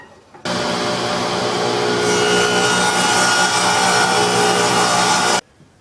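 Table saw with a crosscut sled slicing through a piece of wood: a loud, steady whirring cut of about five seconds that starts abruptly and stops cleanly, brightening partway through.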